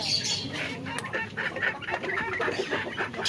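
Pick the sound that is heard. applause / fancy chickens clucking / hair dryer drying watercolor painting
fancy chickens clucking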